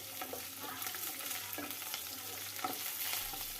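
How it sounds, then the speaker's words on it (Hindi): Garlic frying in oil with curry leaves until light brown for dal palak, a soft continuous sizzle with occasional stirring scrapes, close but fairly quiet. "अब लहसुन को हल्का ब्राउन होने तक फ्राई कर लेंगे।"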